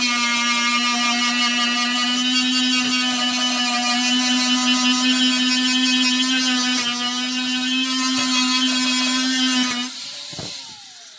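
An electric power tool fitted with a cleaning disc whirs steadily on rusty steel of an Austin Mini boot floor, a loud continuous high-pitched tonal drone that runs nearly eleven seconds before spinning down abruptly near the end.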